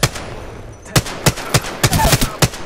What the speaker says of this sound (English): There's gunfire came from the direction.